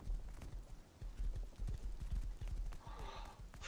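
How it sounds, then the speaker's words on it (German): Horse hooves clip-clopping in the survival video game Rust, a steady run of soft rhythmic thuds, fairly faint, with a brief whinny-like tone near the end. "Auf der Rückseite war noch ein Pferd gewesen."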